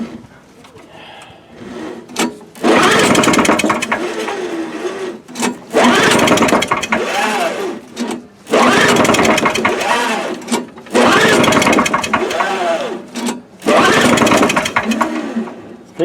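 A 1984 Craftsman snow blower's small engine catches and runs in several loud bursts of a few seconds each, revving up and dropping off between them, with brief quieter gaps.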